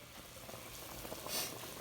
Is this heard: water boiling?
yes